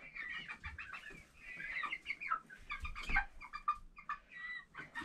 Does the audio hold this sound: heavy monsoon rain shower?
no